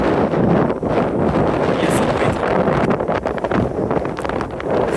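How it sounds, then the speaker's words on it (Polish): Strong October wind buffets the microphone in an open field, a loud, continuous roar with gusty swells and rumble that never lets up. "Jak na październik to jest naprawdę dużo prędkość wiatru."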